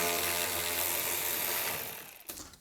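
A ratchet works on bolts of an Audi S4 3.0L V6 TFSI engine, a rapid clicking whir held close and loud for about two seconds, then it stops with a brief clack.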